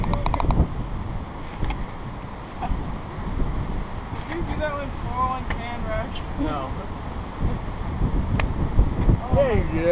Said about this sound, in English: This wind, man.